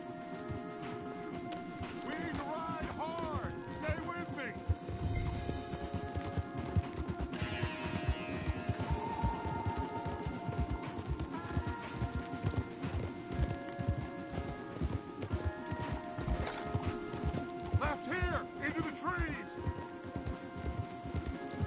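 Steady hoofbeats of several horses clopping along in Red Dead Redemption 2, mixed with game music and occasional voices, continuous and fairly close throughout.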